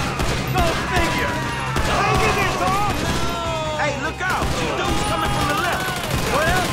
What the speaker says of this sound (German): Der schießt! Franklin schießt nicht!